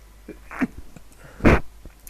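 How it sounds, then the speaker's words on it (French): A single short, stifled sneeze close by, preceded by a faint breathy intake in an otherwise quiet room. "Donc je vais éternuer, excusez-moi."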